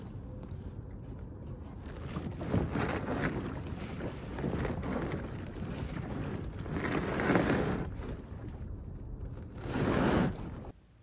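Water sloshes and swashes in surges inside a flooded jon boat hull, rising and falling in slow waves, close, with a rushing noisy texture and no voices.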